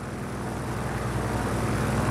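Aircraft engine drone as a plane comes in to land at a main runway in Just Cause 4: a steady, fairly quiet low rumble with a broad hiss, constant throughout with no talk.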